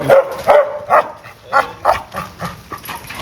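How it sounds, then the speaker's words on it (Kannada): A well-bred dog on a farm barks repeatedly at close range, about eight sharp barks in an uneven rhythm that soften toward the end, heard alone without talk. "ಅವ್ರ ತೋಟದಲ್ಲಿ ಒಳ್ಳೆ ಬಿಡ್ ನಾಯಿನೂ ಸಾಕ್ತಾ ಇದ್ದಾರೆ"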